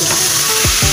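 Milk poured into a pan of frying egg korma sets off a loud, steady sizzle, close up and continuous throughout with no voices.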